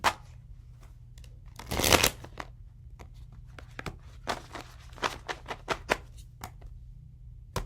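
Tarot cards being shuffled nearby in several quick riffling bursts, with a louder flurry early on and short taps and snaps after, no voices.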